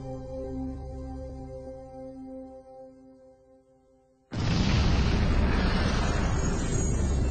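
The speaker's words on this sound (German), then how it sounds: "Aus dem Big Bang, einem winzig kleinen Krümel, explodierte das Universum." A sudden, massive explosion sound effect representing the Big Bang erupts loud and sustained after a quieter musical passage, a broad roaring blast that stays full and rumbling to the end.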